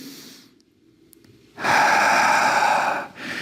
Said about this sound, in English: Breathe in and come back up.